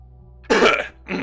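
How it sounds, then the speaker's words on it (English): Two short, harsh throat-clearing bursts close up, a longer rasp followed by a briefer one after a quiet pause. "I was clearing my throat repeatedly"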